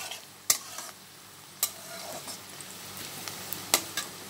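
Onions fry in a pan for potato bhujia and are stirred with a spatula, a continuous soft sizzle with a few sharp scraping knocks spaced irregularly, close and alone without speech.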